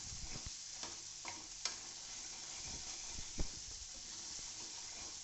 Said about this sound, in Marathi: एक पाच सात मिनिटच चांगला परतू द्यायचा तेल सुटेपर्यंत चांगला खमंग असा परतून घ्यायचा आहे